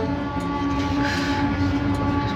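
Inside a moving passenger train, a steady, loud rumble of wheels and carriage fills the space with a constant low drone and faint rattles, with no voices.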